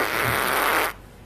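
A broadband fart-like burst, loud and close, lasting just under a second before cutting off abruptly, with no talking over it.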